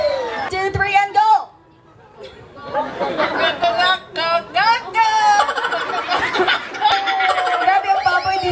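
A crowd of people at a surprise 60th birthday celebration sings the happy birthday tune using imitations of their favourite animal sounds, a dense overlapping mix of voices with laughter and chatter and a brief lull partway through.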